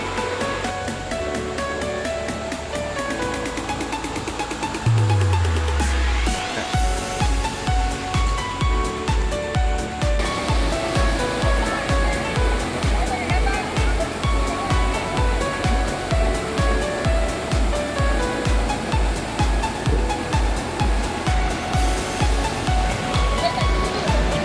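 Steady, loud rushing water of the Batang Kali river in Malaysia fills the whole stretch, a constant broad roar close by, with a faint regular low thumping underneath.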